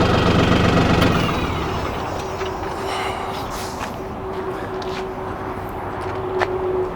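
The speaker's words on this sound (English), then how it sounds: "So now I can kill the tractor." An LS tractor engine rumbles loudly at idle, then cuts off after a second, leaving a quieter low hum and faint background noise.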